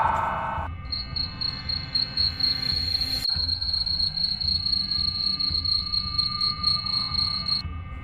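A genggong cricket chirps in a loud, close, continuous high trill that holds steady for most of the stretch, alone over a faint low background hum.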